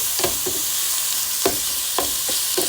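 Italian sausage and onion brown in a pan as the sausage is broken up with a gadget: a low, steady sizzle with a handful of sharp scraping strokes spaced irregularly, no talking.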